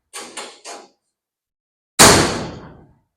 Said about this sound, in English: The striker's not pulling the door at all. It opens and closes really nicely.